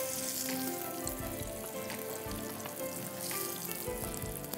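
Chickpea burgers sizzle and crackle steadily in a hot pan, a dense frying hiss with small pops and occasional stirring scrapes, close and unbroken by speech.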